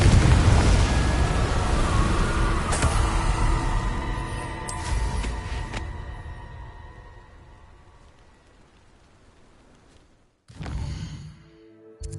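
A Confringo blast spell explodes in Hogwarts Legacy, a loud booming burst with crackling debris that rumbles on and slowly fades, followed by a quieter second burst near the end.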